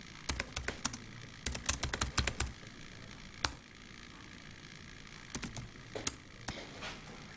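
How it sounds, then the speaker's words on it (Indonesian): Rapid clatter of keys on a computer keyboard, bursts of quick taps separated by pauses, close and fairly quiet with no talking. "Kemudian kita langsung mengetik bagian-bagian besarnya."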